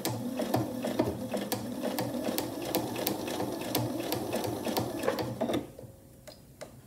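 A sewing machine stitches a fabric skillet handle potholder, its needle clattering in a fast, steady mechanical rhythm up close, then slowing and stopping near the end.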